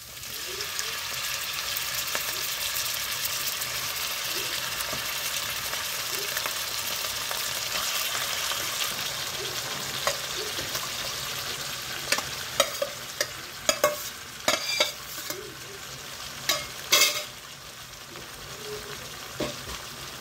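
Pork and onions fry in a pan for a Filipino pork pastel, giving a steady, loud sizzle throughout. Toward the end, sharp scraping clinks of stirring break through it.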